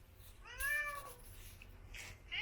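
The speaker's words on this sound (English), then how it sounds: "And of course, you cannot forget the cat." A house cat gives a single clear drawn-out meow in a quiet room near a model railroad layout, followed by faint rustling.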